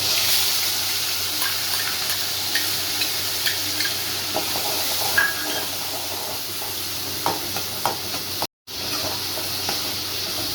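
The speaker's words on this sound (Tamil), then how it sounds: "சின்ன வெங்காயமும் பூண்டும் நல்லா பச்சை வாசனை போகிற அளவுக்கு நல்லா வதக்கிடலாம்." Ground shallots and garlic sizzle in oil in a pan for a South Indian fish curry, a steady frying hiss with occasional soft stirring clicks and scrapes, and one brief dropout near the end.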